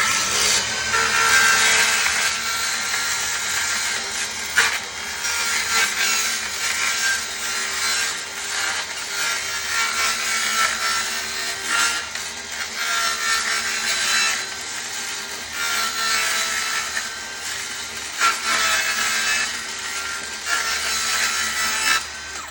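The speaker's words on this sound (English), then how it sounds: "I made a little jig for my little skill saw here." A small circular skill saw, guided by a homemade jig, cuts around a barrel for a DIY dirt and compost sifter. The harsh, rasping cut is loud and sustained with brief dips.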